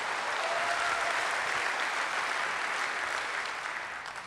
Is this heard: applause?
yes